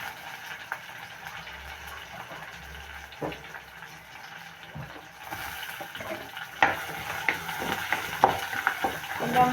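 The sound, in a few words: onion and green chili frying in a pan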